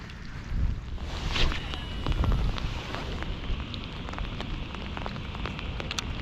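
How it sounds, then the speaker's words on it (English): Cold winter rain patters steadily on water and gear during a pickerel fishing outing, a dense continuous hiss with close drops and some wind, no talking. "Oh, Lord, please make it stop raining."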